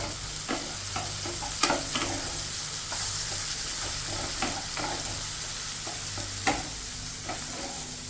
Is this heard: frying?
yes